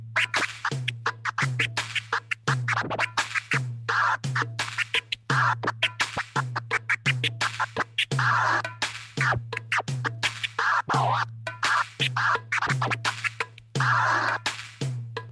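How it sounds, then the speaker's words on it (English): Turntable scratching by a DJ laid over a steady looping beat, with rapid rhythmic scratch bursts cutting in and out across the whole stretch, loud and close with no talking. "So if you put all those together to a beat,"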